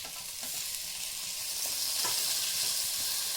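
Chopped onions and tomatoes sizzle steadily in an oil-filled pan for a red amaranth and spinach stir-fry with peas, a close, continuous hiss with a few soft stirring scrapes and no voices.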